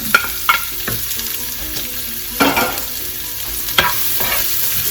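Chopped garlic and onion fry in a hot pan for a corned beef and bitter gourd dish, giving a steady close-up sizzle broken by a few sharp clinks and scrapes of stirring.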